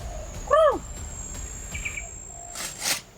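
A single bird gives a sharp descending call up close, followed by a few fainter chirps, over a thin steady backdrop of crickets trilling outdoors.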